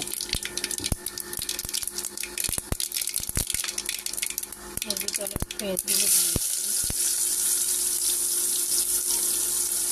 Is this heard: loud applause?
no